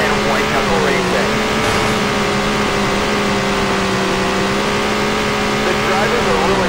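Race cars roar steadily in a continuous, loud engine drone with sustained revving tones, heard at the start of a showcase race just after the green flag, while a commentator talks over the noise.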